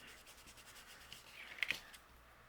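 An ink blending tool rubbed across paper, giving a faint, repeated soft swishing of strokes close by with a couple of slightly sharper scuffs near the end, no voices.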